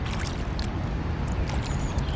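A motor launch passes along a river near a paddler, giving a steady low rumbling engine drone with water sloshing over it. The sound holds even and fairly loud throughout.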